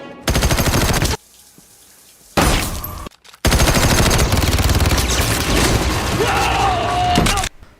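Bursts of rapid machine-gun fire and gunshots ring out loudly in an action film scene, with several long volleys separated by short pauses and some background voices.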